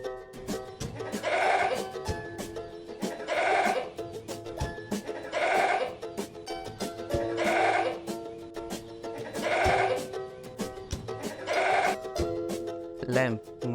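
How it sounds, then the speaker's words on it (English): A goat bleats in a regular series of about six wavering cries, evenly spaced and clearly audible over a faint background of other sounds. "goat माने बकरा."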